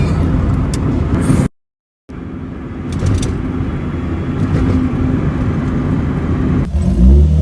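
Acura Integra fitted with a short-throw shifter driving on the road, a steady engine and tire drone running throughout with a brief drop to silence, then engine noise rising again near the end.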